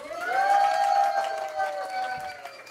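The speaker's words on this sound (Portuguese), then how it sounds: "Olha o barulho da plateia." A live podcast audience in a brewery cheers and whoops, with scattered clapping under a rising and falling shout that carries for a few seconds.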